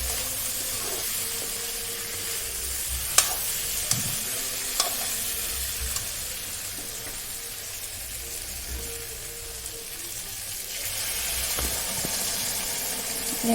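Chicken frying in a pan sizzles steadily as boiling water is poured in, with a continuous close hiss and a few sharp clinks of a utensil stirring against the pot.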